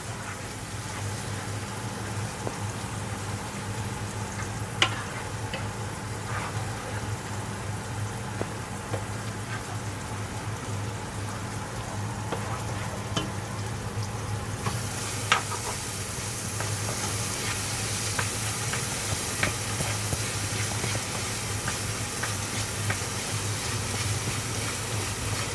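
Pickle mixture stirred in a pan on the stove, a steady low sizzle and bubbling hiss with occasional faint scrapes and taps, close and even throughout, no talking.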